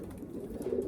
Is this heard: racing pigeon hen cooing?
yes